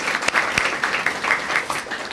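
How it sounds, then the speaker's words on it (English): Audience applause at a monthly community event, a steady wash of clapping from a room of people that fills the whole moment at close range, with no talking over it. "Let's give him a round of applause."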